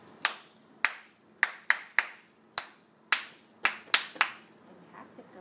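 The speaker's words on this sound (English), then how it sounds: "And can you clap when I clap?" Single pair of hands clapping in a music lesson, about a dozen sharp, separate claps in an uneven rhythm, close and clear in a quiet room with no talk.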